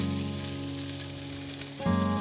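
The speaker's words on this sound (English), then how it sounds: "We're going to start out with the frying pan here. We're going to put some onion and garlic." Onion and garlic sizzle steadily in a hot frying pan, a constant frying hiss with a brief clatter near the end as more goes in.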